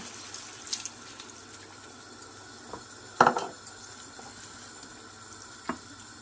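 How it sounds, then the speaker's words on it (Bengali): A little water is poured into a pan of frying spices, potatoes, eggplant and long beans for an Indian-style pomfret fish curry, with a brief splash and sizzle amid quiet kitchen clatter. "সামান্য পরিমাণ পানি দিয়ে দিব।"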